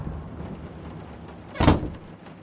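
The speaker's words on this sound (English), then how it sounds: "Doors closing behind you." A single sharp door slam in the horror video game Layers of Fear rises over quiet, murky room ambience and fades quickly.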